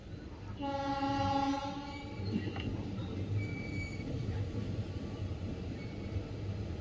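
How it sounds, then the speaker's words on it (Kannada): A passenger train on the Chamarajanagara–Mysore line pulls into Kadakola station, its horn blaring loudly for about a second and a half before wheels and carriages rumble and clatter steadily close by. "ಫ್ರೆಂಡ್ಸ್, ನಮ್ಮ ರೈಲೀಗ ಕಡಕೋಲ ರೈಲು ನಿಲ್ದಾಣಕ್ಕೆ ಆಗಮಿಸಿದೆ"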